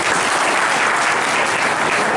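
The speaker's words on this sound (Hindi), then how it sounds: "आपके लिए जोरदार ताली बजाओ।" Loud, steady applause from an audience at a Hindu cultural forum meeting in Nagda about the Kanwar Yatra, dense clapping that continues evenly throughout with no speech over it.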